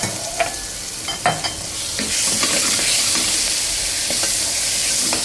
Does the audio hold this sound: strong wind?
no